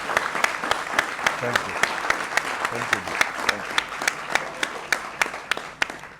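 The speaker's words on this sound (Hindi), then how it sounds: "हमारी ऑडियंस भी है जो तालियां बजाकर आपका स्वागत करना चाहती है यहां पर।" A studio audience bursts into sustained applause welcoming guests at a televised Hindi interview, dense clapping with sharp individual claps standing out throughout.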